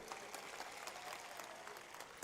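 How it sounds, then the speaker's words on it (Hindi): Crowd applause at an outdoor political rally in Bhinmal, Rajasthan, a steady, distant wash of clapping that carries through the whole clip without a break. "आप जोर से ताली बजाओ यार"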